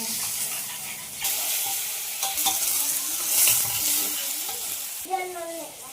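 Frying in a pan with tomatoes, turmeric, chili and tamarind, a loud steady sizzle that swells after the first second, with stirring clatter and brief faint voices near the end.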